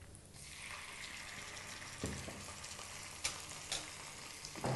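Ginger garlic paste frying in oil with turmeric, a steady close sizzle with a few sharp spoon clinks and scrapes against the pan partway through.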